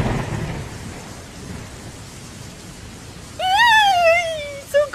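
Thunder and rain in a Gacha Life animation begin with a loud rumbling crack that fades into a steady patter, then a voice breaks in loudly at the end.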